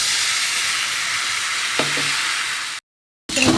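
Green chili, garlic and ginger paste hits hot oil with onions and garlic while making a minced-meat ghugni, giving a loud steady sizzle and hiss with a faint stir, then a brief cut to silence before the frying resumes.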